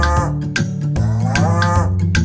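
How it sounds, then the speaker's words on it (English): A cow's moo sounds over a bouncy children's rhyme tune, as a few drawn-out, wavering lows in quick succession, loud and up front. "He says moo to his father and his mother."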